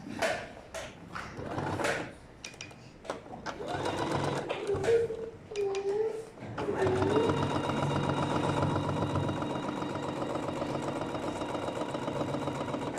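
A sewing machine stitches a trouser seam with a rapid, steady mechanical whirring run after some handling clatter and short bursts, close and loud, as a person speaks briefly at the start.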